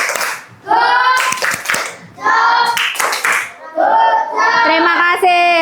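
A classroom of students claps their hands in short bursts, several separate rounds of close clapping broken by brief pauses, with a teacher's voice and children's voices mixed in.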